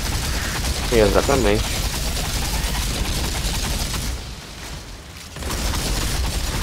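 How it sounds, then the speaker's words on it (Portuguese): Gunfire erupts in the co-op shooter Outriders, sharp loud shots and booms over game ambience while players chat in Portuguese, with a brief quieter lull near the end. "Um tiro de sniper né, a vida inteira."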